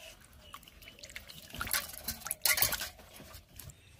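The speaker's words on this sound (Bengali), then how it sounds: "এই মানকচুগুলো ধুয়ে নেব।" Pieces of elephant foot yam are washed in water, giving soft drips, sloshes and light patter with a few sharper splashes near the middle, close and fairly quiet, with no speech.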